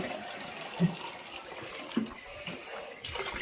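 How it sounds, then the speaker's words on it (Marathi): Water runs from a tap into a container, a steady rushing stream with a couple of soft clunks, fairly quiet and without talk. "दीदी पाणी भरते बघा"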